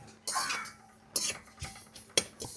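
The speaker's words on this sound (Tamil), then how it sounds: "இப்போ வந்து கடுகை போடுறேன் வறுக்கிறதுக்கு" Mustard seeds roasting in a pan, about 50 grams, give off a few sharp clinks and scraping rattles spread unevenly over a couple of seconds against a quiet background, with no talk.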